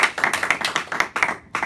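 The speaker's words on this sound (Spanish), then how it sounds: "un aplauso para ustedes como público por estar aquí con nosotros" Audience clapping at a talk on early Mexican horror cinema, a fairly sparse, uneven patter of hand claps with distinct individual claps, fading briefly before resuming.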